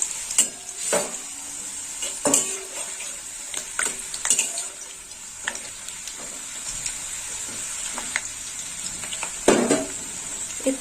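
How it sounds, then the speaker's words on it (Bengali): Papad (papadum) fries a few at a time in hot oil for a potato curry, with a steady hiss of oil broken by bursts of bubbling and clattering as pieces are dropped in and turned. "দিয়ে দিলাম পাঁপড় এরকম অল্প অল্প করে পাঁপড়গুলো সব ভেজে নেবো"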